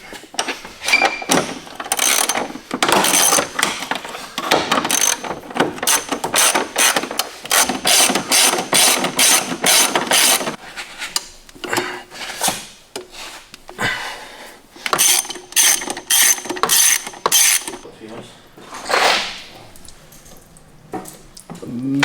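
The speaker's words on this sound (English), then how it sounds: "Goddamn ratchet." While an engine is being pulled, a ratchet wrench clicks in rapid repeated runs, stopping and starting across the clip, close and fairly loud, with occasional clinks of metal and no talk.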